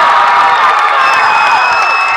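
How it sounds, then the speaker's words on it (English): Crowd cheering and shouting after a Sioux high school basketball win, a dense, loud, continuous roar of many voices with whoops rising over it. "Listen to this crowd."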